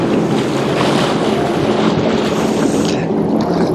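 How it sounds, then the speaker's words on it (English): Strong wind blowing over cold, choppy open water on a first ride of the season, a loud continuous roar with heavy microphone buffeting and the wash of small waves beneath. "The wind blowing like that"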